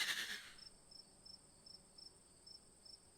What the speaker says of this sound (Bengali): সর্বক্ষণ জেগে থাকে ঝিঝি করে ঝিঝি পোকাদের একটানা আর্তনাদ